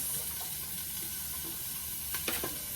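Chopped onions sizzle in a hot pot for caldo de queso, a soft steady hiss with a few brief scraping stir sounds near the end, quiet and close.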